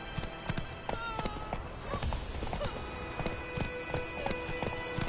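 Horse hooves clip-clop at a steady trot in a PlayStation 4 video game, crisp rhythmic hoofbeats close by with faint game sound behind.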